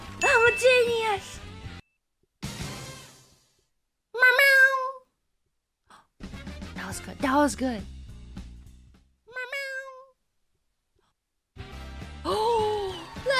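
A person repeatedly imitates a cat's meow in short sliding vocal bursts, with a few brief spoken words between them.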